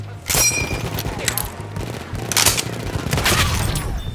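Revolver shots in a World War I shooter game, heard as loud, close gunfire in a busy burst of cracks and booms over a noisy battle background, with no talk.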